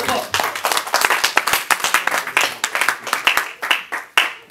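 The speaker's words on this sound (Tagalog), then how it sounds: "Malakas sa palakpak pa para kay Lord" A church congregation clapping hard in sharp, fairly rhythmic bursts, close and loud, with voices calling out over the claps throughout.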